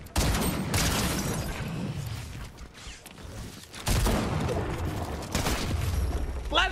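Gunfire in the video game Fortnite, including sniper rifle shots, heard as loud sharp cracks and bursts over busy game noise, fairly close and continuous.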